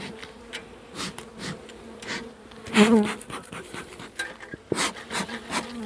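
Honey bees buzz around the entrance of a beehive on a cool day, a close, continuous humming drone with individual bees swelling past, along with faint rubbing and knocking of wood.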